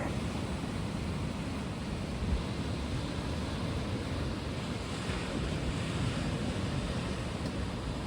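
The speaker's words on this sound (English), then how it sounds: "I'm just watching the waves come in" Ocean waves surging onto a shore in a steady, dense wash of surf, mixed with gusting wind noise on the microphone, continuous and fairly loud with no voices.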